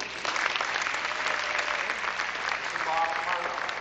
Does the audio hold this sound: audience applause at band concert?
yes